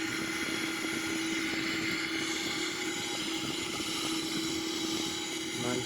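Boeing 777-300ER engines at maximum takeoff thrust in a flight simulator game, a steady loud broadband roar with a constant tonal hum running without break throughout, and a voice talking underneath.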